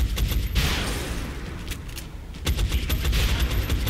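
Rapid bursts of gunfire in the video game XCOM: Enemy Unknown crackle in quick succession, loud and sharp, with rumbling booms underneath and a brief lull midway before another volley.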